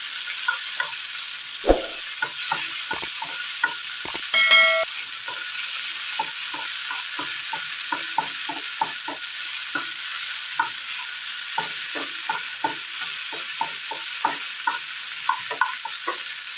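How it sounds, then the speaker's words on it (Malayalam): Chopped tomatoes sauté in a hot pan with a soft, continuous sizzle, punctuated by regular scraping stirs of a spoon, close and clear with no talking. "ഇതിലേക്ക് അരിഞ്ഞു വെച്ചിരിക്കുന്ന തക്കാളി ചേർത്ത് കൊടുക്കാം. ഇതിന് നന്നായി ഒന്ന് വഴറ്റിയെടുക്കാം."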